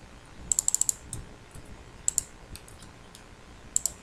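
Someone types on a computer keyboard while writing Python code, making quick clustered key clicks in short bursts with pauses between them, close and crisp over a quiet room.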